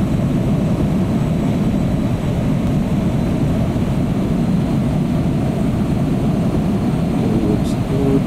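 An aircraft engine drones steadily in a flight simulation as the throttle is nudged up during a landing approach, a loud, low, continuous hum with no distinct change.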